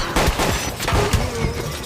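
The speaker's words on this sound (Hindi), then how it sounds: "गोली चलाओ।" Rapid gunfire from bandits in a dramatized horror story, a dense, loud burst of repeated shots and thuds filling the moment without talk.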